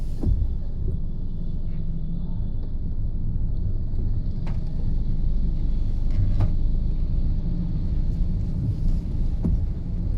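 Road traffic jam near New Manila: a steady, close low rumble of idling and creeping vehicle engines with faint scattered clicks and knocks, continuous for about ten seconds without speech.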